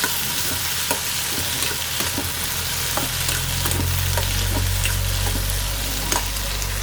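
Onion, garlic and chili sizzle steadily in an oiled pan, a dense continuous frying hiss with occasional stirring clicks from a spoon, close up and without speech.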